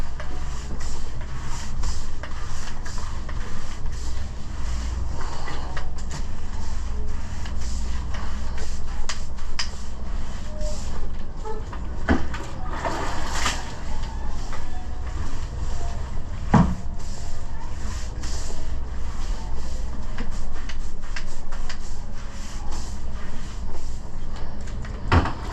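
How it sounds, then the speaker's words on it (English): A brush scrubs teak wood on a yacht deck using wood soap, giving steady, close rubbing strokes with occasional knocks and scrapes. "Now, what I'm going to do, I'm then going to start scrubbing."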